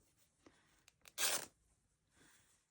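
Scissors cutting a seam off a piece of fabric, giving one close, raspy slicing burst that follows a few small clicks and handling sounds, quiet overall.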